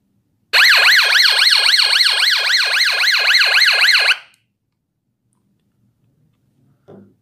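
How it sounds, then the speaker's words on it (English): A handheld walkie-talkie's red-button emergency alarm wails loudly and close for about three and a half seconds, a fast rising-and-falling electronic siren that cuts off abruptly, followed by a faint click near the end. "It is an emergency alarm."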